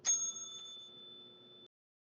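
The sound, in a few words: bell ringing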